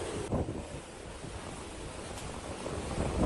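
Strong winds sweep through flood-hit Assam as a continuous, fairly loud roar with rising gusts, broadband and rushing, like surf, and no voices.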